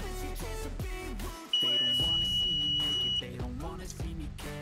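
A steady high electronic beep from Apple's heated iPhone opening tool sounds for about two seconds while music plays underneath, then cuts off abruptly.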